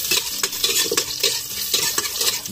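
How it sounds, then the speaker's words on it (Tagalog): Garlic sautéing in a pan, loud close sizzle broken by quick repeated scrapes and taps of a utensil stirring against the metal, with no speech. "Dahil tayo magluluto, igisa muna natin sa bawang"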